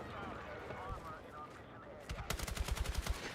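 Rapid bursts of automatic gunfire crack out in an open-weapons multiplayer video game match, a fast string of shots in the second half following a quieter stretch with a voice.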